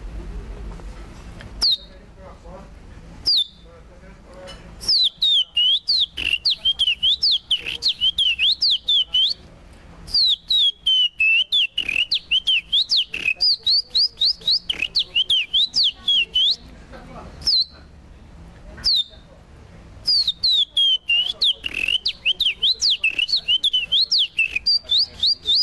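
A man whistles an imitation of the Curió Preto bird's song: clear, high, looping warbled phrases in bursts separated by short pauses, loud and close, with brief single chirps between.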